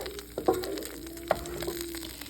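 Cheese sauce hits a hot Blackstone griddle and sizzles softly, with a couple of sharp crackles and pops over a steady low frying hiss, close and fairly quiet, with no talking.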